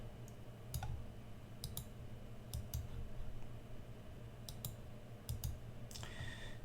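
Keystrokes on a computer keyboard while entering a Linux fstrim command, heard as irregular clusters of crisp clicks over a steady low hum, fairly close and with no talking.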